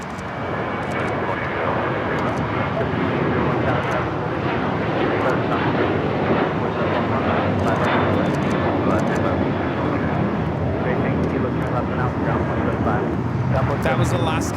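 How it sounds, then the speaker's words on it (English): Alaska Airlines Boeing 737-800 jet taking off from Los Angeles International Airport, a loud sustained engine roar filling the whole stretch, with voices talking over it at times. "That was Alaska Airlines 1374 taking off to Laredo on the 737-800"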